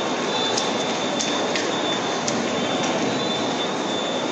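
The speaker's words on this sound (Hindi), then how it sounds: "बैंड्रा ट्रेन आ गई, वो निकल गई." A Mumbai local train passes at Bandra station, a steady broadband rumble and rush of wheels and carriages filling the whole stretch with a few faint squeals and clicks, no talking.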